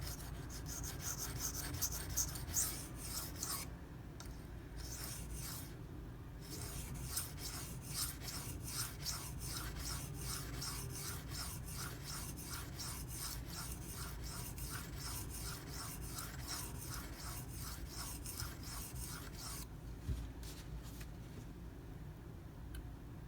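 Benchmade 9400 Auto knife blade sharpened on a stone, a faint, rhythmic series of rasping strokes repeating steadily with brief pauses, close up.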